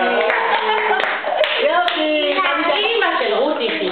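A child and adults clap their hands together at home, light clapping running under continuous talking and sing-song voices.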